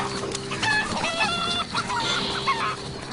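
A rooster calls in his hens in a barnyard, with repeated clucks and crowing-like calls overlapping close by against a steady outdoor background.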